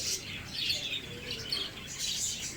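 Budgerigars chirp and twitter in quick, overlapping bursts at a busy pigeon market, the bright calls fairly close against a soft background murmur.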